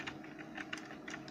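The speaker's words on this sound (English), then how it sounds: "Just gonna type here" Fast irregular keystrokes on a computer keyboard, close and fairly quiet, clicking in short uneven bursts with no voices over them.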